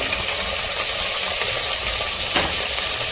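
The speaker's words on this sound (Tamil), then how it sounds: "ஹை ஃப்ளேம் பண்ணிட்டு ஆனியன் நல்லா வதக்கலாம்." Sliced onions sautéing over a high flame in a pan for vegetable biryani, a loud continuous sizzle and crackle filling the whole stretch, with one short stirring scrape partway through.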